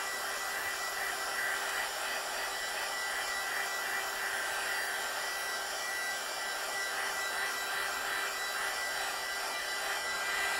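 Hair dryer drying watercolour paper before stamping, a steady airy whoosh with a faint whine running continuously throughout, close and unbroken with no talk.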